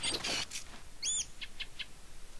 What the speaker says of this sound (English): Definitely hear some chirping.